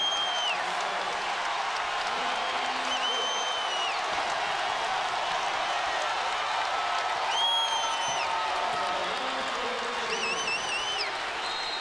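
College basketball crowd at a Virginia home game against Wisconsin, a steady wash of arena noise and cheering heard at a distance, with squeaky whistle-like tones cutting through now and then.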